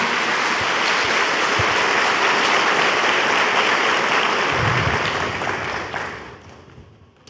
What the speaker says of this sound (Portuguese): Pode aplaudir essa mulher.